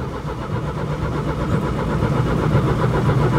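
A Kombi van engine turns over and catches, settling into a loud, close, rough mid-pitched running rumble that builds slightly without voices.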